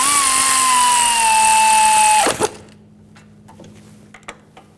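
Power tool snugging wheel hub bolts on a Volkswagen Jetta during a front wheel bearing replacement, a loud steady whir that winds down sharply after two seconds, followed by quiet clicks and small handling noises.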